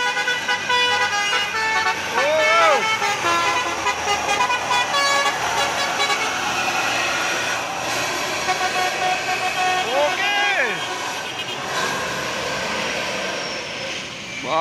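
A telolet horn on a bus or dump truck climbing a steep hill at Bukit Kodok sounds repeated rising-and-falling melodic toots over loud, steady diesel engine roar, with voices talking nearby.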